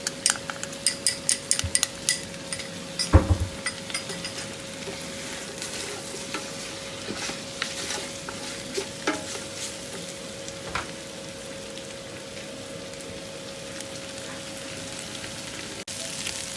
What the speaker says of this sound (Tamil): மட்டன் நல்லா பொரியுது.